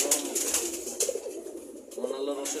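A female pigeon coos in soft, repeated low calls. Noise and rustling run underneath, and a few faint harmonic calls rise near the end.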